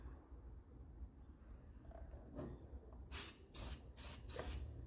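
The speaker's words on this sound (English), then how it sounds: "we're gonna spray the underneath side to touch up any of that overspray onto the red" A Rust-Oleum spray paint can fires four short hissing bursts in quick succession after a quiet, low-rumbling stretch, touching up overspray on red paint.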